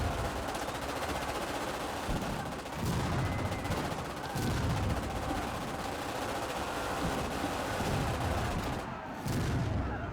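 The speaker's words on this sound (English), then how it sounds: "So that's a battle when you've got mechanized infantry." Sustained mechanized infantry battle gunfire in the video game Victoria 3: dense, continuous machine-gun rattle and fusillade with periodic heavier booms, loud and steady throughout with no talking.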